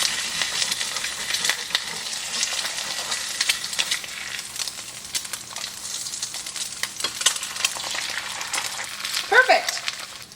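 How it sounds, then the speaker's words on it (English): Eggs frying in oil in a pan give a steady, close sizzle with crackling spits throughout, and a few light clinks and scrapes of utensils come through. "I'm not very good at cooking eggs, so we'll see how they go."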